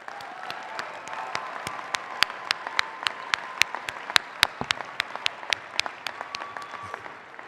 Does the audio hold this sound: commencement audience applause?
yes